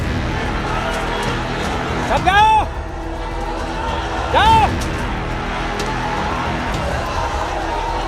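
A crowd rumbles steadily during a street clash in Sambhal, near a mosque with police nearby, while a voice shouts commands over the noise and two rising whistle-like calls cut through.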